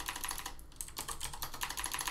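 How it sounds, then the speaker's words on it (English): Quiet, rapid keystrokes on a computer keyboard clatter in a steady burst with a short pause partway, nearby and alone. "all we have to do is type transpose b"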